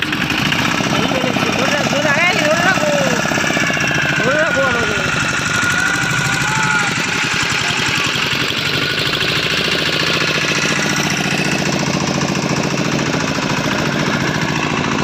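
A motor boat's engine runs with a steady rough chugging drone and vibration throughout, close by on the water, while people talk over it.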